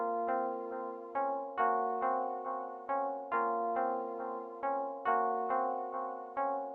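Millions pluck one-shot in FL Studio playing a simple five-note pattern over and over: short, bright plucked synth notes with quick decays in a steady repeating rhythm, alone and upfront.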